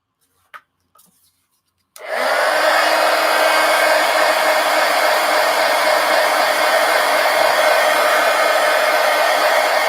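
After a couple of faint clicks, a hair dryer switches on abruptly and blows loud and steady at close range, drying paint on a mixed media art journal page, its airy roar filling the rest.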